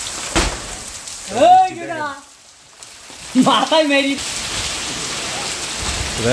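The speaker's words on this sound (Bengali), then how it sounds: "প্রচুর পরিমাণ বৃষ্টি হচ্ছে, প্রচুর বৃষ্টি হচ্ছে" Heavy, steady rain pours down on a farm, a dense continuous hiss through the whole stretch, with a person talking over it in two bursts.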